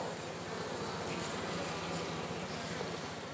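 A dense swarm of honeybees drones continuously around a hive during honey extraction, a loud, close, unbroken buzzing hum with no voices.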